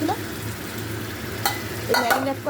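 Marinated chicken drops into a pan of frying spiced masala and is stirred, a loud, close sizzle running throughout with bursts of scraping and clattering from the spatula near the end.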